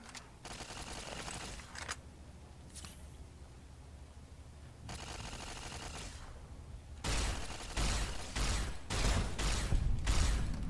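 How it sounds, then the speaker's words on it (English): Gunfire from the video game Fallout: New Vegas arrives in sustained bursts of rapid shots with mechanical clatter and gaps between them, growing louder and denser toward the end. No one speaks. "let's get a weapon out here. So I can shoot"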